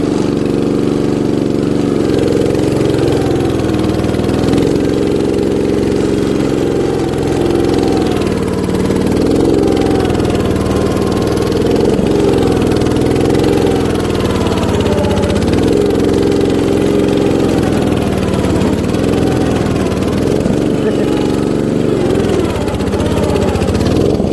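A small single-cylinder engine on a 1960s Terra Mite minibike runs steadily and loud for the whole stretch, its pitch wavering as the throttle is blipped and eased off.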